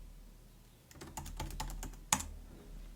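Keys clatter on a computer keyboard while file names are typed into Python code, a quick run of close, crisp clicks ending in one louder keystroke like a press of Enter, with no talk.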